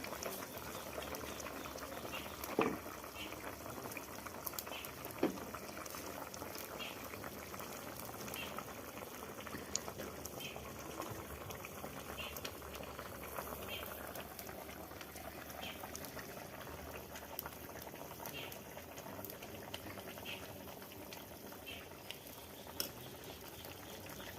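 Helencha greens simmering with vegetables in a covered pot bubble steadily in a low, continuous boil, with a few faint clinks over the constant seething and no talking.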